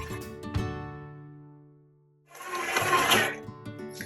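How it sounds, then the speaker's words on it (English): A stand mixer churns challah olive oil dough at low speed, a steady motor whir with rough churning that swells after a short pause and an earlier hum, no talk. "You really don't want to mix it at a high speed when you're incorporating the dry and wet ingredients."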